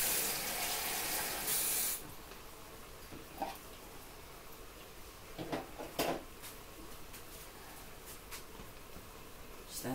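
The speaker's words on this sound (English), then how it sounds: "just add some water first." Water runs from a tap into a bowl with a steady rushing hiss, the flow softening after a couple of seconds, with faint clinks and splashes.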